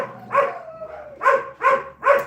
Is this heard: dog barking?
yes